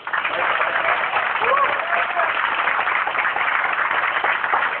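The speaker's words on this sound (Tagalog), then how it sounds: "Dapat ang mga payaman, pumapalakpak po yan ng malakas" An audience at a leadership training event claps loudly and continuously, a dense, even roar of hands with a voice briefly audible within it.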